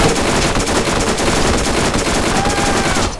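A Tediore Stinger gun in Borderlands fires in a rapid, sustained volley of loud, hard shots with heavy recoil, dense and continuous until it cuts off near the end, with no talk.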